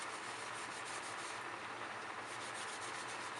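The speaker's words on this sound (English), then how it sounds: "I use a Scotch sponge that's got the little scrubber on the back side." A Scotch sponge's scrubber side rubs a greasy wall mount fan in steady, even strokes, a continuous close scratchy swish with no pauses.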